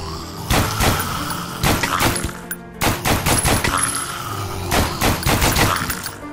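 Gunshots from a zombie shooter game ring out in loud, repeated clusters of rapid shots with brief pauses between volleys, alone with no talk.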